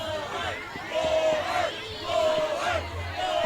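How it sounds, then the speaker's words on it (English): Fans at a college softball championship yell and chant in rising, rhythmic bursts, loud and close, with individual shouts standing out above the crowd. "The Centenary crowd yelling to pull the pitcher."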